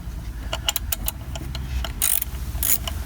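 A hand ratchet clicks in quick bursts while snugging the clutch pressure plate bolts on a BMW E46 during a clutch replacement with a solid flywheel, close and fairly loud, with a few brief metallic rattles and no talk.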